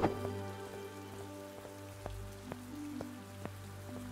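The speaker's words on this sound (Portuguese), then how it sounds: "Sabe o que aconteceu agora que tá chovendo?" Steady rain falls in the video game Mask of Mists, a soft even hiss with occasional sharper drip ticks over a low constant hum, and no one speaking.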